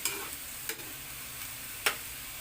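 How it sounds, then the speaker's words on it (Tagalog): String beans cooking in a pan for adobong sitaw, a soft continuous sizzle broken by a few brief scraping stirs against the pan, close and quiet, with no talking. "Halo-halo lang hanggang maluto yung vegetable."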